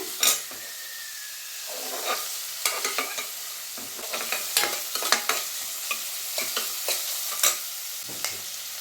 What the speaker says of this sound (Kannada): ನೋಡಿ, ಈರುಳ್ಳಿ ಚೆನ್ನಾಗಿ ಫ್ರೈ ಆಗ್ತಿದೆ.